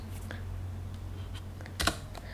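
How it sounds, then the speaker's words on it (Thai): A colon key is pressed on a computer keyboard, giving one distinct, close keystroke among a few faint clicks over a quiet hum. "เสร็จแล้วกดปุ่มโคลอนอยู่ตรงคีย์บอร์ด"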